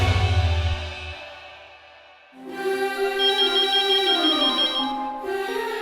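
A telephone ringtone rings late at night, a melodic electronic tune that starts low, pauses briefly, then returns brighter and louder, playing on alone without any voices.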